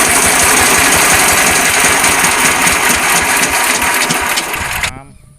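A VST power tiller engine runs loud and close, with a steady rapid diesel knocking throughout that cuts off sharply near the end.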